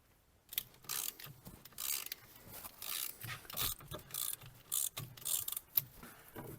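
Ratchet wrench tightening bolts on a Land Rover LR2 front wheel bearing assembly, heard as repeated bursts of quick clicking and metallic rasping in an irregular rhythm, close and moderately loud, with no talking.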